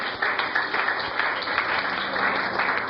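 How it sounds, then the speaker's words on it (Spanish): A church congregation breaks into sustained applause during a worship service, a thick, continuous roar of many hands clapping at steady strength with no voices on top. "Dale un aplauso a Cristo."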